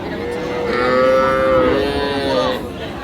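A cow at the Raniganj rural cattle market, where calves and heifers are sold, gives one long, loud, close moo that swells and fades over about two seconds.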